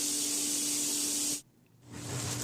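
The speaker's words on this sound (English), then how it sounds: "This is Valspar flat black spray paint." A can of Valspar flat black spray paint hisses in a loud, steady burst, cuts off abruptly for a moment, then starts spraying again.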